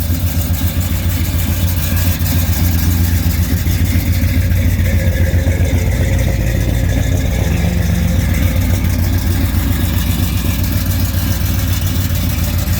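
A cold 1969 Pontiac GTO V8 running rough, its steady, lumpy idle rumbling close and loud without pause.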